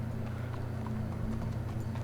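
Horse hooves clip-clopping in the video game Red Dead Redemption 2, a steady muffled patter set low in a dense, continuous bed of ambient game noise, with no talk present.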